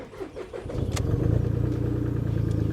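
A VW Polo's engine cranks briefly, then catches and settles into a steady, slightly rough idle, close and loud with no talking.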